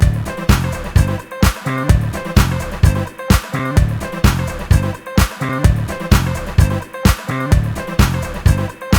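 A loud mixed music track is processed through a BX limiter, with driving, evenly spaced drum hits and heavy bass, dense and compressed, playing alone with no voices.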